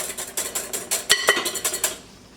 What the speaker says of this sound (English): So I'll just whisk it a little bit more